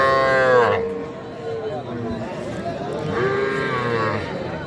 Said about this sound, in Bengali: দুইটাই কিন্তু ষাঁড় বাছুর